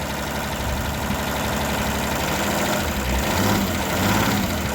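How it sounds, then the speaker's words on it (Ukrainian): A small car engine idles and runs close up, a loud steady buzzing drone with a faint knocking texture that holds level throughout, no voices over it. "Але моторчик дуже подобається, як він робить."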